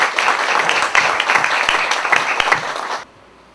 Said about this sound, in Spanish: Recibamos con un aplauso